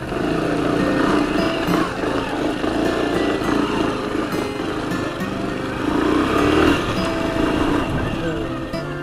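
A Honda Super Cub motorcycle engine runs while riding by a riverbank, a steady close putter with slight swells in revs throughout, as someone speaks over it.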